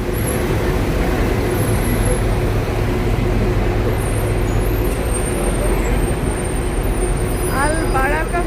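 A bus idles and moves about a busy bus station near the Haram in Mecca during Hajj, with steady engine rumble and traffic noise filling the air and faint voices underneath.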